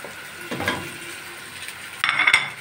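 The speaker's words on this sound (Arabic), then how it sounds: "وهننزل باللحمه المفرومه بتاعتنا اهو، ربع اللحمه المفرومه" Minced meat goes into a hot pan for a tajine and is stirred, giving a soft sizzle with a few scraping sweeps of a utensil and a louder metallic clatter near the end.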